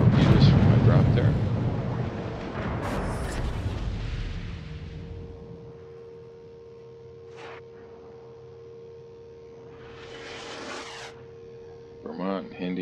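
Anti-aircraft guns on a warship in a naval video game fire loud rumbling bursts that fade into quieter distant pops and booms, with someone talking over the gunfire.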